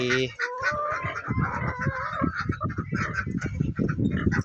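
Chickens and ducks feeding on azolla, with busy clucking and quacking fowl calls close by in an uneven, continuous jumble.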